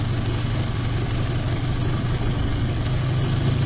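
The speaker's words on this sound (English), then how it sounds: "First thing you want to do is idle the boat down." A Yamaha outboard motor on a boat idles steadily, a constant low rumbling drone with even vibration throughout and no voices.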